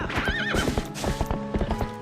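Epona, the horse in Zelda: Twilight Princess, galloping with quick rhythmic clip-clop hoofbeats, a loud whinny rising over the first half, steady and close throughout.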